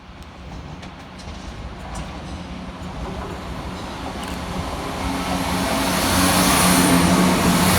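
CrossCountry Class 170 diesel unit 170103 powers through Barnt Green station on a Nottingham to Cardiff Central service, its broad rumble and rushing wheel noise swelling louder and closer as it passes, with no voices.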